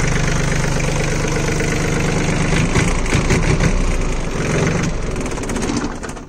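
A Swaraj Target 625 4WD mini tractor engine runs steadily nearby, a continuous low chugging drone with slight revving changes throughout, no speech over it.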